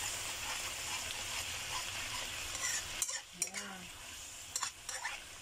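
A spoon stirs a balado egg mixture in a hot pan. Steady frying sizzle runs throughout, with a few clinks of utensil against the pan near the end.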